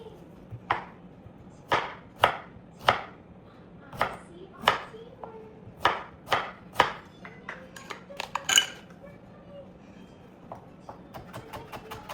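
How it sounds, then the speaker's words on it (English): A knife cuts papaya and ginger into julienne strips on a cutting board, giving a dozen or so sharp, evenly spaced chops that quicken into lighter taps at the end, close and fairly quiet, with no talking. "And we're gonna slice it julienne."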